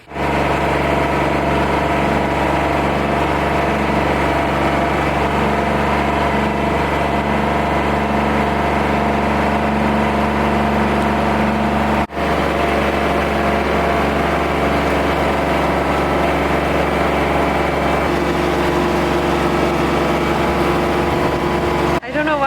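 A tractor engine runs continuously with a steady, loud, low rumble nearby, broken only by a couple of brief clunks.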